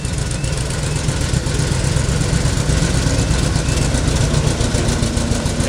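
Carburetor engine on a small train, running steadily with a low, rough drone and no clear rises in pitch, loud and close throughout.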